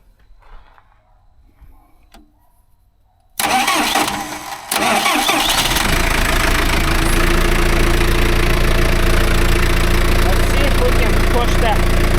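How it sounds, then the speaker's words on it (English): A John Deere backhoe's diesel engine cranks briefly, catches and settles into a loud, steady clattering idle close by, after a few seconds of quiet shop sounds. "I'm gonna start the backhoe."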